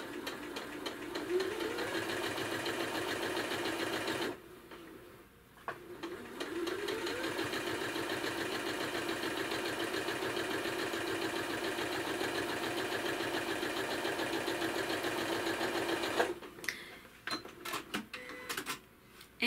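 Sewing machine stitching a quarter-inch quilt seam, a steady fast mechanical whirring hum that runs in long stretches, pauses briefly, resumes, then stops with a few clicks at the end.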